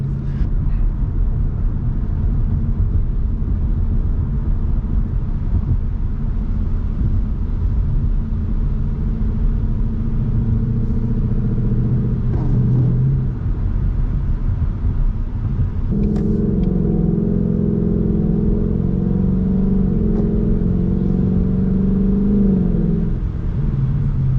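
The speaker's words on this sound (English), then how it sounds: "I'm gonna show you how nimble this car is." A car driving with steady engine rumble, then rising revs and a clear shift in engine note as it accelerates and downshifts, loud and close throughout with no talking.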